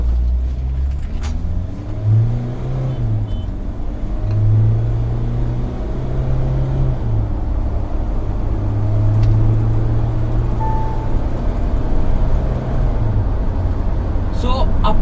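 A modified Mahindra Thar diesel 4x4 with an automatic gearbox revs during a power test, its engine rumbling and climbing in pitch through several rising pulls, loud and close, with someone talking over it.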